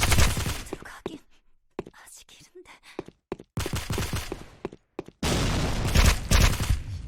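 Suppressed rifle fire in the online shooter Sudden Attack, SCAR and MSR in use: a handful of muffled, clipped shots scattered through the stretch amid game noise, with a dense burst of loud action near the end.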